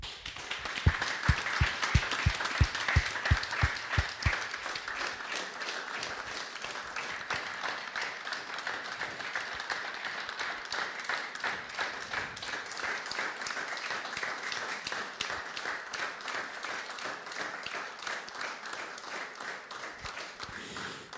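Sustained crowd applause at a public gathering after a road accident near Sabinov, Slovakia, dense and steady for about twenty seconds, with a few sharper individual claps standing out at the start.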